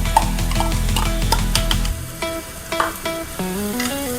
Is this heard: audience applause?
no